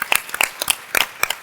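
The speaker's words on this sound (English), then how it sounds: "I think we all need to give ourselves a round of applause for being so resilient that we're all here today." Small group applause at a business talk on resilience, sparse, uneven clapping in a few quick bursts, moderately close, with no voices over it.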